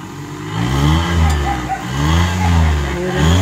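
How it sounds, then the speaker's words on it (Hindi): A 2017 Suzuki Alto 660cc engine fitted with a hydrogen kit revs up and eases off in repeated swells, fairly close and steady, with no talking over it. "रेस देना जाके ज़रा"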